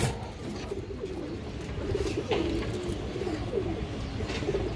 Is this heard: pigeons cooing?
yes